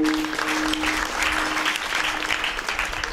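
Steady, dense applause from an audience at a Marathi religious discourse, sustained and fairly loud throughout with no talk over it.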